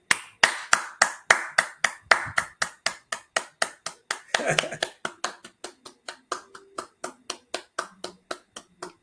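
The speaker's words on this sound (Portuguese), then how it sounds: "Vamos dar uma linda salva de palmas para o Senhor Jesus" Rhythmic hand clapping at a church livestream, steady claps in a regular beat from a small group, close and distinct, with some voices mixed in midway.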